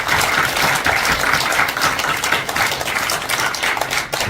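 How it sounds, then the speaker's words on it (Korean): A dense, steady round of applause fills the room at a foundation's launch ceremony, with many hands clapping at once. It stays loud and continuous throughout with no voices over it. "박수 한번 부탁합니다"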